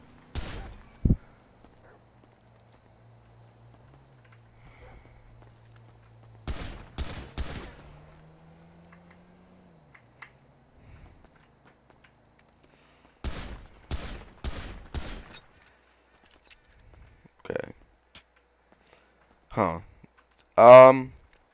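Gunfire in GTA FiveM shooting through glass, heard as quick clusters of sharp shots with a gap between bursts, followed by a few louder separate reports near the end, with quiet stretches in between.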